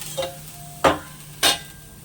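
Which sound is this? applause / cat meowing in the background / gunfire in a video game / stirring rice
stirring rice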